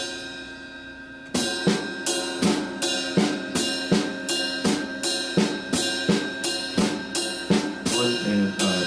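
A drum kit groove played on the ride cymbal bell with the left foot landing on every third note, steady bright pings and thuds starting after a quiet lead-in, close and loud.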